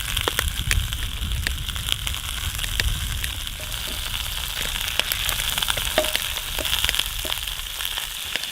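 Hooligan fish (eulachon), seasoned and whole, fry in a pan outdoors in Alaska, giving a dense, loud, steady sizzle with scattered sharp pops and crackles and some low rumble underneath.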